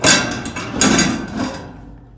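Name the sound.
removing a metal furnace cover panel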